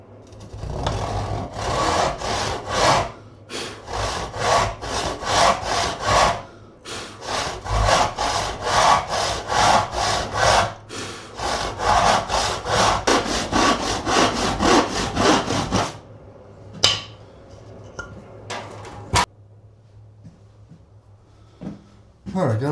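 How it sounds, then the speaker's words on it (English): A hand saw rasps back and forth through wood while cutting pieces for a dovetailed mail holder, in steady rhythmic strokes up close that stop near the end, followed by a few scattered knocks. "We'll get a different saw."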